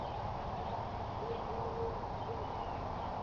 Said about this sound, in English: Hope you can hear the bird.